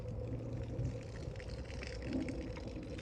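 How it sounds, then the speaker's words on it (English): Water poured onto garden vines gives a soft, steady trickling and splashing, faint and continuous throughout with no talk. "I thought I'd put a little water on"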